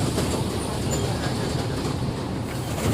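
Matheran toy train running along its mountain line, a steady close rumble of wheels and carriages filling the whole stretch without a break.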